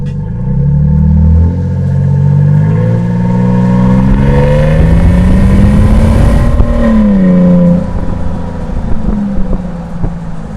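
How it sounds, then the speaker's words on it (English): A 2023 Toyota Sequoia TRD exhaust roars loudly up close as the SUV accelerates through the gears, engine pitch climbing and dropping at each shift with no talking. "I do have an exhaust clip that I'll have for you guys, busting through the gears."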